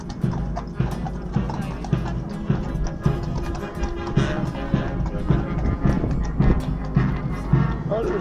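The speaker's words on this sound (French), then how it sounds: "Ils sont beaux les chevaux." Horses' hooves clip-clop steadily along a busy London street near Buckingham Palace, several sets of sharp hoof strikes ringing out amid crowd chatter and city bustle.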